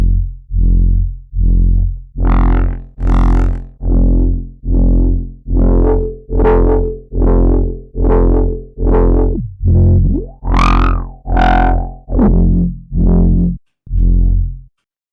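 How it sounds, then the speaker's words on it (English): A distorted synth bass in Serum 2 runs through an acid diode ladder filter, repeating in an even pulse, its filter sweeping brighter and darker across the notes, with a squelchy resonant peak near the end. "The acid ladder is a circuit model of the diode ladder, really famous in acid music."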